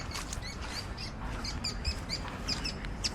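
Faint, scattered bird chirps and tweets near a pond in an autumn park, over a steady outdoor hiss, distant and irregular, with no one speaking.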